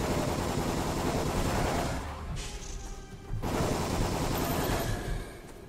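A machine gun staff fires in the dungeon game Ziggurat, with dense rapid bursts of loud rattling shots, a short pause in the middle, then another sustained stream.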